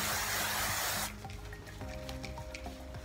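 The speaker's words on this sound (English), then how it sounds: "this Ultra Sheer Body Mist sunscreen spray from Neutrogena" A Neutrogena Ultra Sheer Body Mist sunscreen spray can gives one loud, close hissing burst lasting about a second, then quieter room sound follows.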